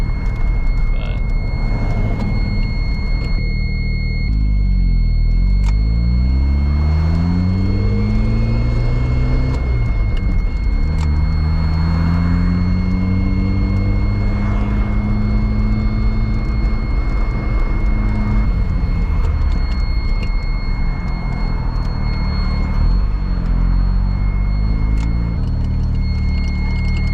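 Mazda RX-7 driven for the first time, its rotary engine revving through rising and falling gear pulls under continuous cabin noise, with steady high-pitched whines and occasional clicks; a person talks at times over it.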